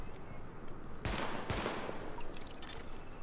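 Sidearm fire from the video game The Division, shot at highlighted targets: a couple of sharp broadband reports around the one-second mark over a steady bed of game noise, no talking.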